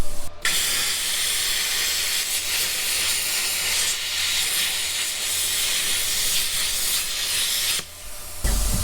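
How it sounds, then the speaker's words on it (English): Plasma cutter gouging out a weld on an International Scout II body, a loud steady hiss that runs unbroken for about seven seconds, then cuts off briefly near the end before restarting. "get ready to start making some plasma. I like your idea just gouging out the weld."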